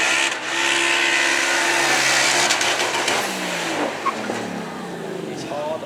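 A Ford Mustang at a supercar weekend event revs loud and close, the engine roaring up and easing off in a single sustained pull.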